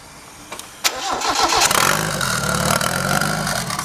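Turbocharged Mazda Miata with a budget turbo kit cranks and fires on the first try, a few starter clicks giving way to a loud, steady high idle close by.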